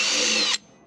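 Power drill with a 5/16 inch bit enlarging a quarter-inch pilot hole in metal: a loud, close, high grinding whine that runs steadily, then cuts off abruptly, leaving a faint residual hum.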